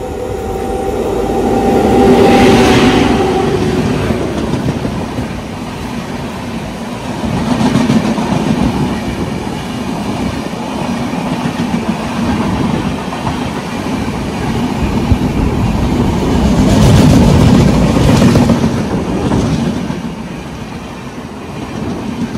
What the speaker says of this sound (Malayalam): ഇപ്പോൾ രാജധാനി എക്സ്പ്രസ് വരും, നമ്മുടെ ഡൽഹിയിൽ നിന്ന് ട്രിവാൻഡ്രം പോകുന്നത്